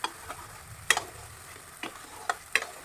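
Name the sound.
stir-frying cashew, tomato and ginger paste in oil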